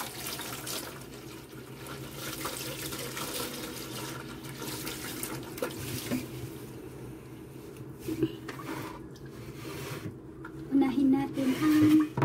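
Water runs steadily from a tap for hand-washing laundry, a continuous splashing rush that grows louder toward the end, with a voice talking in the background.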